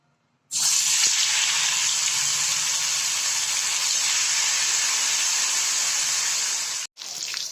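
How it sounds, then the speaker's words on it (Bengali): Small shor puti fish fry in hot oil in a kadai, a loud, even hiss and crackle that starts abruptly, holds steady for about six seconds, then cuts off briefly before resuming, with no talking. "এবার এর মধ্যে একে একে মাছগুলো দিয়ে ভেজে নেব।"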